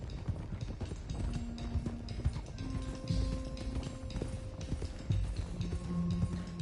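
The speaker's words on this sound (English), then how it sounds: "let's get these horses to Clemens Cove quick before we run into any more trouble" Several horses galloping in the video game Red Dead Redemption 2, rapid overlapping hoofbeats pounding steadily over rough ground, close and loud, with tonal game music or ambience humming underneath.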